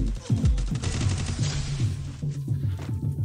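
Slow-motion video game gunfire from a UMP in Free Fire landing a headshot: a loud burst of deep, booming shots with low thudding tails and a steady dense rumble throughout.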